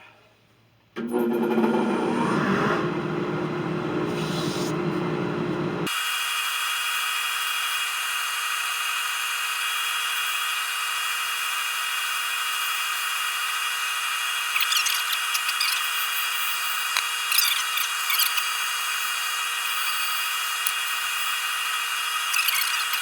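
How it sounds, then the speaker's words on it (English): In a woodworking shop making a walnut beer mug, a brief burst of tool noise gives way to a dust collector running, a steady, high, airy whine that holds evenly to the end. "I'm going to flip on the dust collector and let's kick it"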